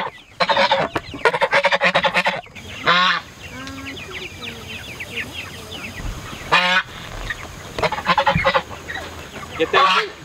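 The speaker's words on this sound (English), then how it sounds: "now we gotta move the meat chickens, the big guys." Meat chickens clucking and squawking nearby, loud repeated harsh calls in bursts with quieter chatter between them.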